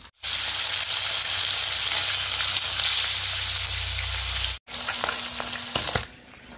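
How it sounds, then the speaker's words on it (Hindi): Pieces of katla fish frying in hot oil: a loud, continuous close-up sizzle that cuts out briefly, then resumes more softly with a few clinks of a utensil. "इसी तरह से सारे मछली हम फ्राई कर लेंगे"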